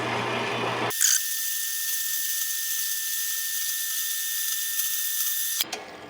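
A non-carbide saw blade cutting, giving a steady, loud high-pitched whine for about five seconds that begins and ends abruptly.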